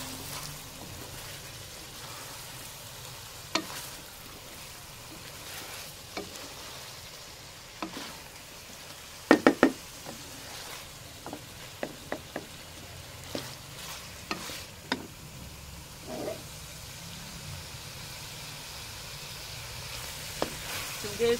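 Mutton with potatoes, turmeric, red chili and salt browning in a pan for aloo gosht, a soft steady sizzle broken by occasional scraping stirs and light clinks.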